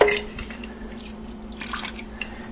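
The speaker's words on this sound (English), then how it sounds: "And so I'll just dump that down the drain." Sourdough starter hooch poured down a kitchen drain, a faint irregular trickle and scattered drips over a low steady hum, no voices.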